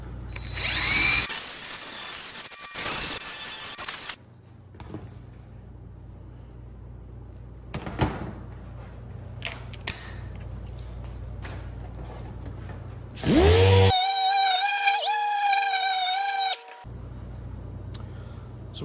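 A dual-action sander fitted with 80-grit paper works on bare metal during metal prep, a buzzing whir in several bursts, with a loud, higher-pitched spell near the end, separated by quieter gaps with occasional clicks.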